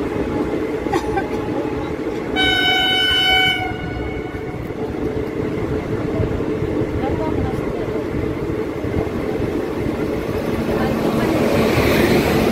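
Passenger train 05509, Saharsa to Jamalpur, pulls out of Khagaria Junction with a steady loud rumble of wheels on track and one long horn blast early on.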